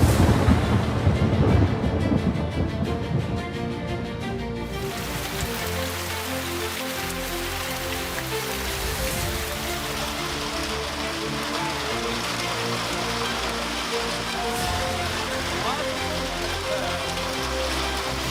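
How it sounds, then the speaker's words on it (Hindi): Unseasonal rain and hail driven by strong winds in Punjab, a steady dense wash of rain pelting surfaces, louder and gustier in the opening seconds, then a continuous hiss with no voices. "साथ ही ओलावृष्टि और बारिश भी हो रही है"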